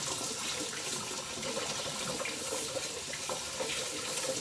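Vegetables for fresh chunky salsa being rinsed under a running kitchen tap, a steady close hiss of water splashing into a sink, continuous and fairly loud with no talk.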